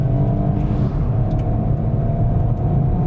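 A Peugeot 308 with a 1.2 PureTech turbo petrol engine accelerates hard, a loud, steady, droning engine note with road rumble heard from inside the cabin.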